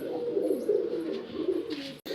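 Pigeons in a home loft coo in a steady, low, rolling murmur that continues without a break and drops out abruptly near the end, with no voices over it.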